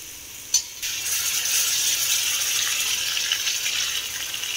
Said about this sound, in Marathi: आता याच्यामध्ये आपण अद्रक लसणाची पेस्ट टाकणार आहोत।